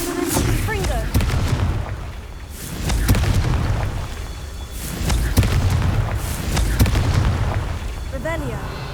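Repeated fiery Confringo spell blasts in the video game Hogwarts Legacy, booming explosions landing every second or two over a dense rumbling battle bed, with a voice shouting between the hits.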